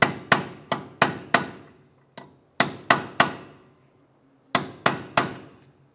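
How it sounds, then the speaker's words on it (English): Sharp metal hammer strikes on a punch, dimpling the axle nut into the axle on a 2009-2015 Honda Pilot rear hub, landing in uneven clusters of ringing blows with brief pauses between groups, close and loud with no talk. "we're going to go ahead and dimple the nut into the axle. You can use your punch, your hammer."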